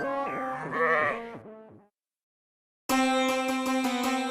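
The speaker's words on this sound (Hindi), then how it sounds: "लेकिन ये तो बकरी है।" A goat bleats in a series of wavering, nasal calls, close and clear, then a short silence before a second, louder sustained bleat with a shaky, pulsing tremor, alone without talk.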